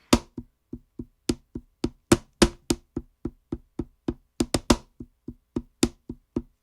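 Steady, evenly spaced knocks from a hand striking a studio desk, recorded dry with no reverb, each hit short and close with a few louder accents in a loose, slightly messy rhythm.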